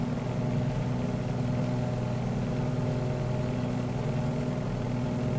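Steady drone of the two big radial engines of a Beechcraft 18 climbing in Microsoft Flight Simulator, a constant deep rumble with a low throbbing hum, loud and continuous with no talking.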